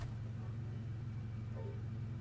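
Steady low idle rumble of a truck engine in the off-road driving game Snowrunner, continuous and fairly close, with no voices over it.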